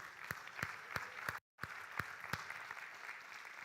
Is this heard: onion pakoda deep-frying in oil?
no